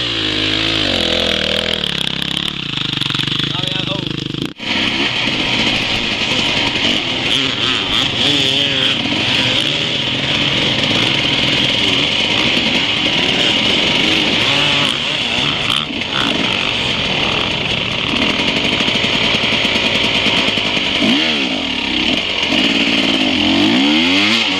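A loud, buzzing enduro motorcycle engine runs continuously, revving and holding a high drone close by with no pauses.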